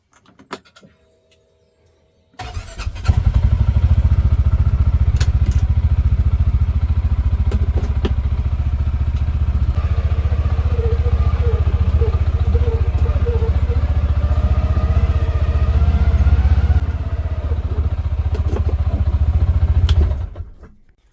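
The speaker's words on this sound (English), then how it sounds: "this is a 2024 CF Moto U-Force 600" A 2024 CF Moto U-Force 600 side-by-side starts up and idles outdoors, its engine holding a steady, loud low drone for about eighteen seconds before cutting off.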